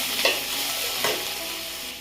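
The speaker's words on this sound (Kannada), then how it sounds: "ಚೆನ್ನಾಗಿ ಹಾಕ್ಕೊಂಡು ಮಿಕ್ಸ್ ಮಾಡಿ. ಚೆನ್ನಾಗಿ ಫ್ರೈ ಮಾಡ್ಕೊಂಡ್ಮೇಲೆ" Vegetable fried rice being stirred and fried in a pan, giving a steady sizzle with two brief scraping stirs near the start, no voices.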